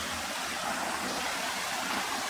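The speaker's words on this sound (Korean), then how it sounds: "시원하게 물이 내려옵니다" A mountain valley stream flows steadily down a rocky gorge, its broad, even rushing sound filling the scene continuously without pause or voices.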